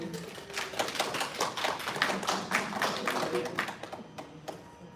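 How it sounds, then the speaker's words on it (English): Seminar audience giving a round of applause, scattered claps at close range that start strong and gradually thin out, with a voice briefly audible. "Ladies and gentlemen, please give a big round of applause to Dr. Rich Castellano."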